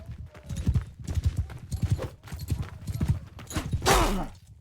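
Horse hooves clip-clopping in the medieval combat game Mount and Blade 2 Bannerlord, a steady rapid galloping rhythm throughout with a brief louder scrape or impact near the end.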